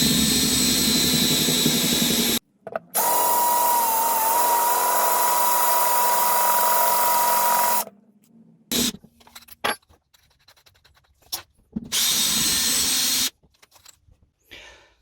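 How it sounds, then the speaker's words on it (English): A loud, high-pitched power drill whines in long sustained bursts drilling metal on a Solex PICT VW carburetor, cutting off abruptly between runs, with sparse clicks and handling noises during the pauses. "watch someone actually drilling a bit of metal"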